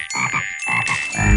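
Cartoon frogs croak in a Curious George children's game, a quick run of loud, close, rhythmic ribbits over musical backing, with no talking.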